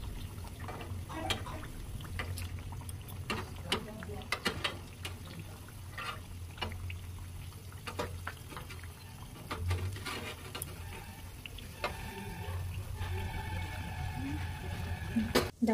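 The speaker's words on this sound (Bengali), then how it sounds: "একদম লো ফ্লেমে ধৈর্য ধরে ভাজতে হবে কিন্তু" Thekua dough frying slowly in oil over a low flame: a steady soft bubbling hiss with scattered crackles and occasional light clinks, heard close throughout.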